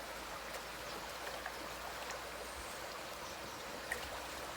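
A shallow stream in Three Houses Park, Barbados flows with a soft, constant rush and faint trickles. It sounds quiet and slightly distant, with no talk.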